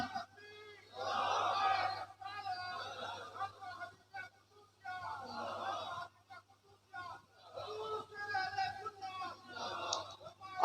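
Crowd chanting slogans in loud rhythmic bursts, mixed voices shouting together in waves with short pauses between, fairly close and boisterous.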